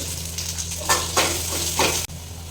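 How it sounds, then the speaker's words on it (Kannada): Onions frying in oil in a pan, a loud close sizzle with a few stirring scrapes and a clunk near the end. "ಸೊ ಇವಾಗ ಚೆನ್ನಾಗಿ ಫ್ರೈ ಆಗಿದೆ ಈರುಳ್ಳಿ"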